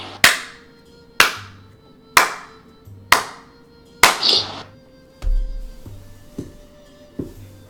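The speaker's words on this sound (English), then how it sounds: "just this slow clap" A lone person slowly claps in a quiet space: about eight sharp, close claps spaced roughly a second apart, evenly paced and deliberate, with nothing else around them.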